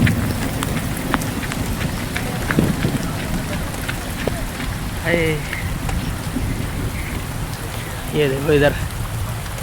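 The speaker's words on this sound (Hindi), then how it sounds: "तेज़ हो गई है बारिश छुपने के लिए भागना पड़ेगा हमें" Steady heavy rain hisses across a jungle throughout the clip, with occasional sharper drops and someone speaking briefly in Hindi over the downpour.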